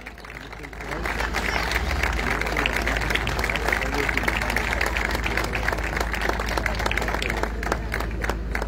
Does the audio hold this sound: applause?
yes